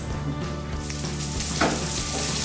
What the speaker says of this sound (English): about 2 tablespoons worth of sesame oil in the frying pan with just a few slices of onions